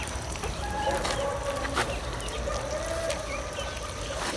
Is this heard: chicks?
yes